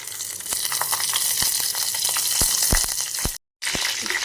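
Loud continuous sizzling and crackling as oil is poured into a hot pan on a traditional clay stove, with scattered pops, broken by a brief moment of silence near the end.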